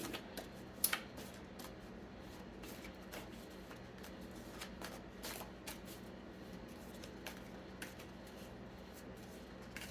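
Tarot cards are shuffled close up and quietly, with repeated soft riffling flicks and brief sharper snaps spread irregularly through the stretch, no voices over it.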